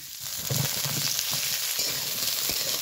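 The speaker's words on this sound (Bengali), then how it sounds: "এবার গরম তেলে ফোড়নে দিয়ে দিব মূলাটা" Radish and eggplant pieces hitting hot oil in a pan with tempering spices, giving a steady loud sizzle with crackling pops throughout, no voices.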